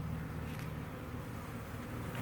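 Many honeybees buzz around a beekeeper working a hive, a dense continuous drone close and steady throughout with no talking.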